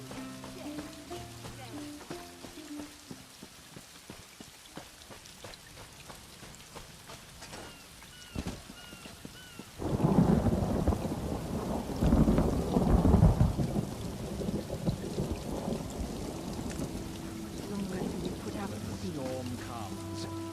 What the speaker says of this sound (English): Storm comes.